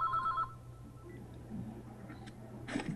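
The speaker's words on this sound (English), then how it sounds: "Oh, phone call coming in." A phone rings with a brief electronic tone at the start of an incoming call during a public meeting, followed by faint room noise and ticking.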